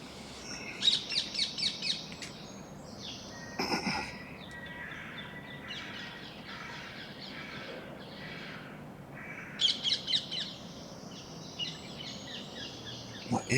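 Pigeons and other birds calling outdoors, with short bursts of bright chirps and tweets repeating several times over a steady background hum, moderately close and fairly faint, with no talk.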